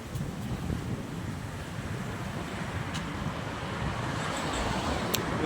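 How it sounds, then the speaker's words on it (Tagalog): Strong wind buffets the microphone outdoors in a steady, loud roar that swells slightly toward the end, with faint surf or water noise beneath and no talking. "Yan, ang lakas ng hangin, oh."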